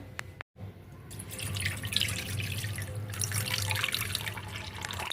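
Water poured off soaked semolina into a vessel while making idli batter, a steady close trickling and splashing stream running for several seconds after a brief gap, with no talk.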